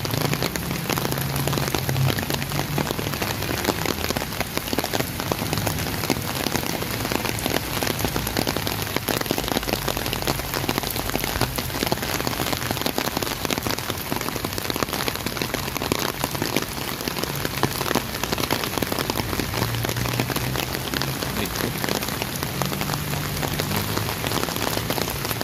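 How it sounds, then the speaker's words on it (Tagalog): Steady, unbroken rain falls over an MRT-7 construction site beside a large excavation near Elliptical Road and North Avenue, a dense, even patter of drops that holds at the same loudness throughout, with no voices. "mapapansin nyo po tuloy-tuloy na rin po yung pagulan dito sa area"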